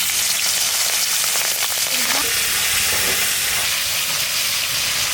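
Pomfret fish roe frying in hot oil in a pan in a village kitchen, giving a steady, loud, broadband sizzle throughout with brief faint voices in the background.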